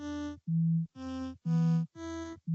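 Synth notes from code running in a live loop repeat as clipped tones alternating between two pitches in a steady rhythm, with about six short notes played alone.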